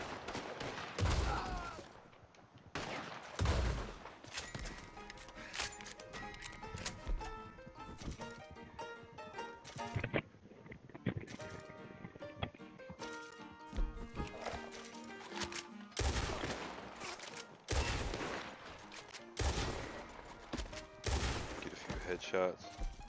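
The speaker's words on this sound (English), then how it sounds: "Shots." Gunfire rings out in a shootout outside the Blackwater Saloon in the Red Dead Online video game, a series of sharp shots spread across the scene, with voices and game sounds in between.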